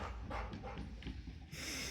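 A young dog whimpers and pants softly in a room, a brief restless mix of small whines and breaths with a brighter burst near the end.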